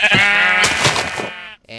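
A sheep in the Minecraft video game gives a loud, wavering bleat lasting over a second, followed by a brief gap and a faint trailing sound.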